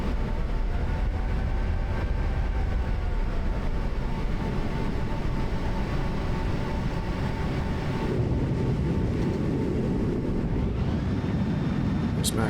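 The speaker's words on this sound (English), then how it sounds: "max reverse, max brakes, max spoilers, and the C-17 Globemaster 3" Simulated C-17 Globemaster III rolling out after landing with max reverse thrust and brakes, a loud continuous engine roar and rumble that shifts in tone near the end as it slows.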